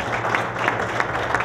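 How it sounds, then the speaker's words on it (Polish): A crowd claps in a regular, rhythmic beat at a team presentation of the Wisła Puławy football club before the spring round, the claps landing about three times a second over a low, steady background. "Marcin Bigiel, wielkie brawa,"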